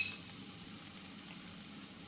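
Crushed ginger, garlic and green chillies sauté in a pan with a soft, steady sizzle, quiet and continuous with no talking.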